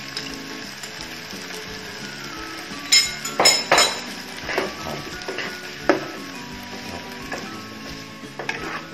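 Sator beans and shrimp paste stir-fried in a pan for a southern Thai sweet-and-sour dish, with a low steady sizzle and a few sharp metallic clinks of a utensil against the pan, moderately close.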